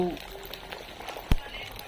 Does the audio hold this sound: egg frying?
yes